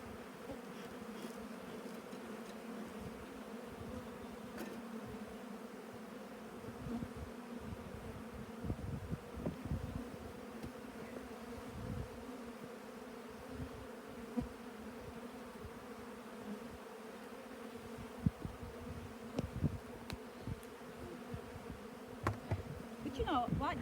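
Honeybees swarm and hum around an open beehive during a beekeeping inspection, a steady close drone with scattered soft knocks and handling noises throughout.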